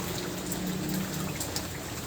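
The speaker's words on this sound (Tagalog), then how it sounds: "Kasi ulan na naman yan" Steady rain falls during a flood, a soft even hiss with faint scattered drops and no voices.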